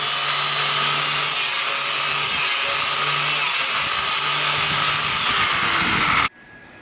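A cutting disc grinds through the metal body of a Kombi van, a loud, continuous abrasive screech that stops abruptly just before the end.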